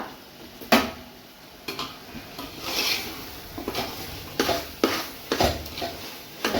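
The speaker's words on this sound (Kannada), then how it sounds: "ಸೊಪ್ಪುಗಳೆಲ್ಲ ಚೆನ್ನಾಗೆ ಫ್ರೈ ಆಗ್ತಾ ಇದೆ" Greens sizzling and being stirred in a pan for chicken dum biryani, with repeated scraping and clattering strokes of a utensil against the pan over a steady frying hiss, close by.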